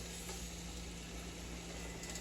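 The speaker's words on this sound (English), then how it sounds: "That sizzling is what you want to hear." Soft, constant sizzling of pork neck bones frying in a hot pot, a quiet steady crackle with no talking.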